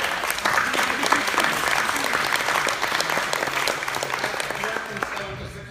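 An audience claps for Dr. Cooper at a community meeting, a dense steady round of applause lasting the whole stretch and fading only slightly toward the end.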